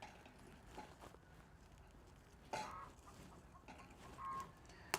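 A hen clucks faintly in the background of a blacksmith's smithy, with a few soft calls spread across the quiet scene and one brief louder squawk near the middle.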